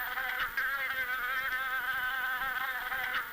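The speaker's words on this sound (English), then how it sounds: "buzzing from flower to flower, pollinating as they go." Bumblebees buzzing among summer wildflowers in a wetland produce a steady, droning hum that wavers slightly in pitch and volume as they move, heard close up with no voices.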